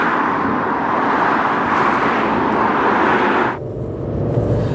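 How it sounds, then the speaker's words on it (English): Ford Mondeo ST24 V6 engine while driving, a steady broadband cabin hum with road roar that suddenly drops in level near the end, heard from inside without talk. "Does that sound like a V6 to you?"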